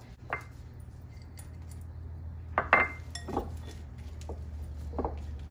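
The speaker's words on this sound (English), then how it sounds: "Now, I'm just gonna go in here and mix this together" Cream cheese, garlic powder and green onions mixed by hand in a bowl, giving a few soft clinks and knocks against the dish at irregular moments over a steady low background hum.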